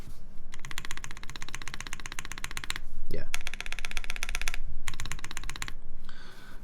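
Someone types on a custom 7V mechanical keyboard, producing dense, rapid clicking in several bursts separated by brief pauses, with a voice briefly heard alongside.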